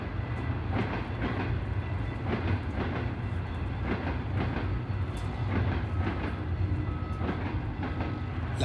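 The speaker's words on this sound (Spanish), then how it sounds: "empiezan los trenes." A train rolls past on railway tracks, its steady rumble broken by repeated clickety-clack beats of wheels crossing rail joints, loud and close throughout with no voices.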